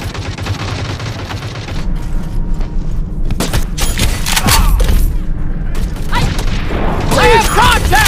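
Gunfire from the mobile shooter Modern Strike Online played on a smartphone, a dense, continuous barrage of shots and thuds with metallic mechanisms, loud and steady throughout, with game voice callouts mixed in.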